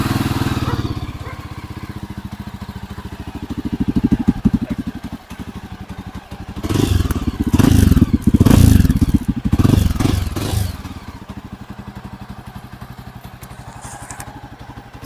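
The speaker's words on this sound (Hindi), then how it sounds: "सो एग्जॉस्ट साउंड में कैसा फील आता है वो सुनते हैं एक बार" Royal Enfield Himalayan motorcycle exhaust, a low thumping idle with a burst of revving in the middle before settling back, loud and close, with some clattering and no talking.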